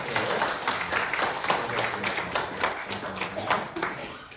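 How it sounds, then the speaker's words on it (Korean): A church congregation claps in steady, even rhythm to welcome a visitor during a Korean United Methodist Sunday service in Arizona, a moderate, roomy patter lasting several seconds with no voices over it. "우리 찬양의 박수."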